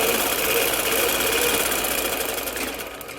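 A sewing machine stitches a men's salwar, close and loud, in a rapid continuous mechanical whir that runs steadily and then winds down slightly at the end.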